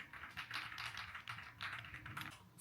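A creamy-sounding mechanical keyboard is typed on in quick bursts of soft, muted keystrokes, close and steady with brief pauses between runs.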